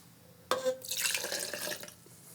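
Apple cider vinegar poured for a vinaigrette, a short close splashing pour of liquid lasting about a second and a half after a sharp onset, with no talking.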